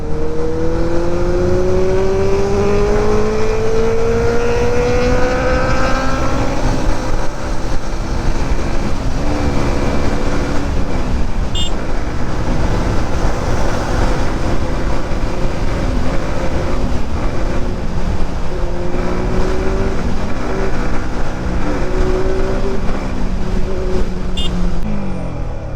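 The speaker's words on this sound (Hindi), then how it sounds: "इनलाइन 4 का आवाज सुन के ही मजा लो आप लोग" A Benelli 600i inline-four motorcycle with a loud aftermarket exhaust drones and rises in pitch as it rides, a continuous close engine roar holding steady over about twenty-five seconds.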